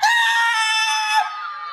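A voice imitates a child's loud, wailing shout, a single sustained high-pitched cry that drops slightly at the end and trails off, close and strong in a lecture setting.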